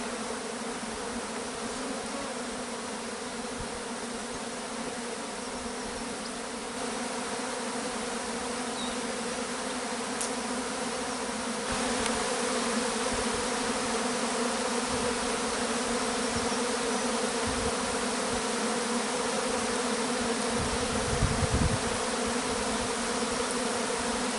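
A swarm of honey bees buzzing around their hive, a dense, steady droning hum that fills the whole stretch, close and unbroken, with a slight rise in loudness partway through and no voices.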